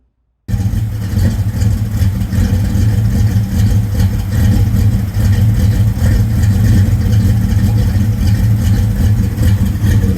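Modified car engine idling steadily after its first start, a loud, continuous low rumble heard close by, starting abruptly after a brief silence and running on without talk.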